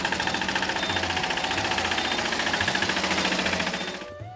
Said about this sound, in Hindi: अब जमाना आ गया है मिनी ट्रैक्टर्स का।